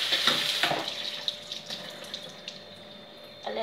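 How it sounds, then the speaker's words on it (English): Tap water runs steadily into a kitchen sink while raw chicken is rinsed by hand, a continuous splashing hiss with small sloshing bursts near the microphone. "Wash the chicken."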